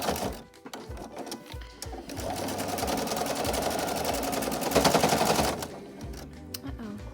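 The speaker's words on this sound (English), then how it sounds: "I just sew down, back up, and then finish sewing all the way around" A home sewing machine stitches around a pleated fabric mask, its rapid mechanical chatter running loud and continuous, rising briefly in speed before stopping, with short pauses at the start and end.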